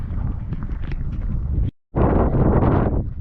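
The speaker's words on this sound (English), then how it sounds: "We've reached a windy, snowy corner here." Strong wind blowing across a snowy mountain corner on a June hike near Chamonix and the Tour glacier, a loud, steady roaring buffet on the microphone with a brief silent gap midway.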